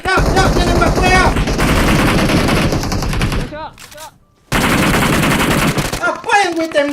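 Rapid gunfire in PUBG Mobile, loud, dense bursts of automatic shots that break off into a brief lull before firing resumes, with a voice audible among the shots.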